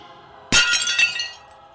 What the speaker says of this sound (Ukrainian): почав розбивати тарілки об камінь